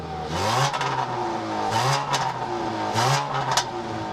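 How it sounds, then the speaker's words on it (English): A 2013 Dodge Dart GT with integrated dual exhaust revs repeatedly, about three rising engine bursts that bark and fall back, loud and close with no talking. "integrated dual exhaust that barks quite a bit when you rev the engine"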